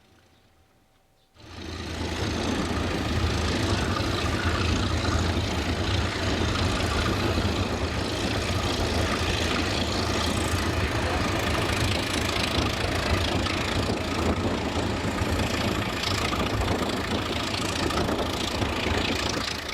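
Unsilenced 1,480 horsepower diesel locomotive engine in Slovakia roaring into life as the train departs, a sudden loud onset after near silence, then a steady rough, throbbing drone that carries on to the end.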